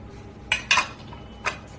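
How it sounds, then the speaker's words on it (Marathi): A spoon stirring rice kheer with sugar, raisins and charoli in a metal pot: three quick, bright clinks of metal on metal, close by and clear over a quiet kitchen. "आता हे सगळं टाकल्याच्या नंतर असं छान फिरवून घेत आहे"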